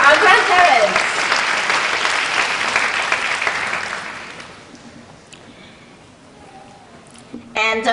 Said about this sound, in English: Clap your hands for our grandparents.